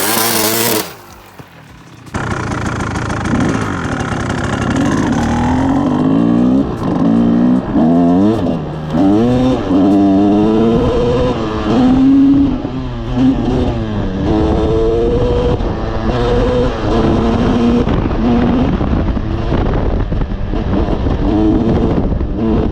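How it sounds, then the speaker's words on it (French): Kawasaki KX 250 two-stroke dirt bike ridden on trails, its loud buzzing engine revving and shifting continuously throughout, rising and falling with throttle, close to the rider. "la rénovation du 250 KX est terminée, je vais maintenant pouvoir l'essayer"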